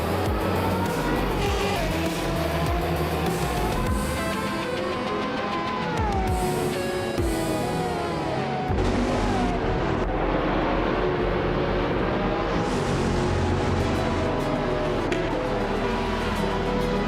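Race cars in a racing video game roll through a victory lap, a steady, loud blend of engine drone and pitch-shifting whines that swell and fade as cars pass, continuous throughout.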